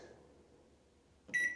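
A Samsung MG23K3515AS microwave oven set to a 30-second grill cycle gives a faint low hum, then one short, bright electronic beep near the end.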